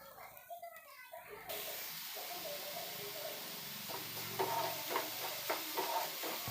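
Onions and tomatoes frying in a clay pot for fish kulambu, a steady soft sizzle with faint stirring scrapes building slightly louder toward the end, close, with some background voices.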